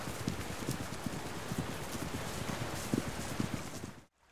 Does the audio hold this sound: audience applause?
no